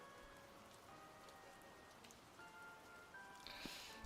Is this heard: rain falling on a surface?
yes